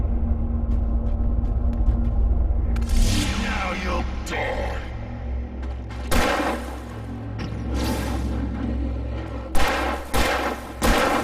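Gunfire in the Alan Wake Remastered video game during a nightmare sequence: several sharp, loud shots in irregular bursts, each followed by booming echoes and rumble over a low droning background.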